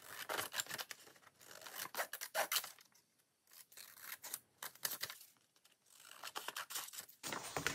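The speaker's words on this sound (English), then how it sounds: "Okay, so I'll just cut inside of those lines." Scissors snip through paper along traced lines in a series of close, crisp cutting bursts separated by brief pauses, each stroke a rasping crunch.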